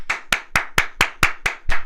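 Eight sharp hand claps in a steady, fairly quick rhythm, close and loud, with no voices over them.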